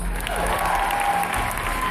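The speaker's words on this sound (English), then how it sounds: "If you're with me so far, a round of applause." An audience at a hairdressing class applauds, producing steady dense clapping that fills the whole moment at an even level, with some crowd murmur underneath.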